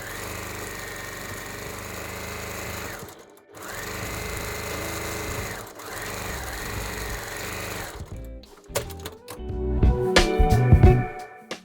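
A sewing machine stitches seams on fabric scraps in bursts, running steadily, pausing briefly, then running again before stopping amid some clattering handling noise.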